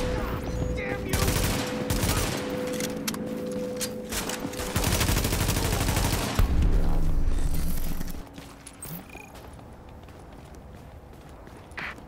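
Rapid bursts of automatic gunfire from The Division video game fill the first eight seconds, loud and dense with scattered footsteps, then fade to quieter game ambience; someone speaks briefly.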